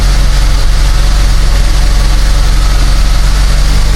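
A 2011 Buick Regal 2.0 Turbo idles steadily after an alternator change, a constant low rumble with a slightly raised idle, loud and close with no talking throughout.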